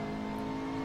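A race car engine in the Assetto Corsa driving game, at Sebring International Raceway, holding a steady, loud drone with a strong low tone and no talk over it.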